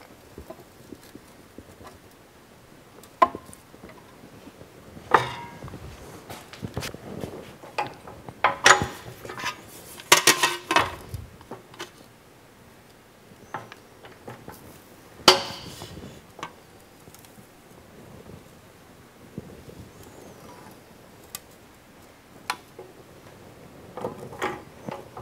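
Sheet metal parts tray being folded by hand, irregular metallic clanks, taps and creaks in sporadic bursts, close and moderately loud with quiet gaps between.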